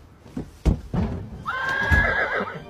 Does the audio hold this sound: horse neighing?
yes